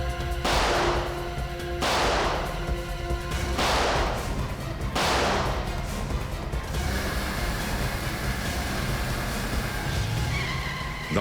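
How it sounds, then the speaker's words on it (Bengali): Rapid bursts of gunfire in a TV crime drama car chase, four loud volleys a second or so apart over a constant roar of a speeding car engine, with tire noise continuing after the shooting stops. "দেখছিস কি? গুলি চালা।"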